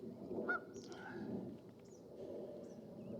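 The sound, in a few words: geese honking at lake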